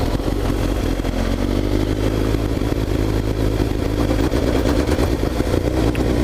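A motorcycle engine runs steadily at low revs, loud and close, with an uneven wobbling throb in its rumble and no speech.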